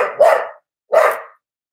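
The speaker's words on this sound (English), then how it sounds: "My dog is so loud." A dog barks twice indoors, loud and close, each bark sharp and separated by a short pause, with no one talking over it.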